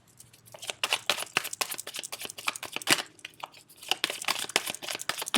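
Tarot cards shuffled and drawn from a deck, with dense papery crinkles, flicks and snaps repeating quickly and closely for several seconds, no voices.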